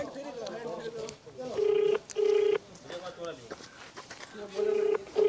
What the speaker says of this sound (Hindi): हम SDM साहब को अभी फोन कर रहे हैं